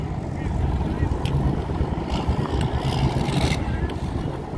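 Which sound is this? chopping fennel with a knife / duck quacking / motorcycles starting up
motorcycles starting up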